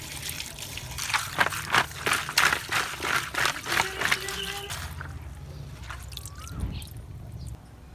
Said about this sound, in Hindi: सबसे पहले हम सब्जियों को साफ़ पानी से अच्छी तरह एक दफ़ा धो लेंगे।